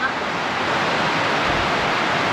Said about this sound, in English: Sí, está lloviendo mucho.